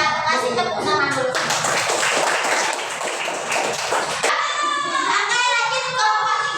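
Classroom of fifth-grade students clapping together in a steady burst of hand claps lasting a few seconds, with children's voices chattering before and after the applause.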